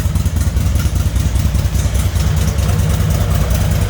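A full dresser touring motorcycle engine idling smoothly and evenly up close, a low steady rumble with a soft regular pulse and no voices over it.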